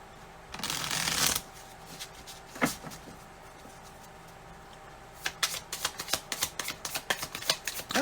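Oracle reading cards being shuffled up close: one long riffling burst, a few scattered taps, then a quick run of sharp rhythmic card slaps toward the end, with no talking.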